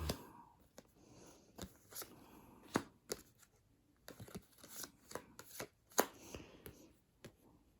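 Playing cards from the game 4 Seasons, also called Dazzle, land on a tabletop in soft, irregular slaps and flicks, quiet and close, with short pauses between.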